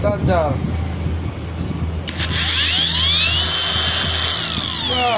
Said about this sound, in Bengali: charger grinding machine, good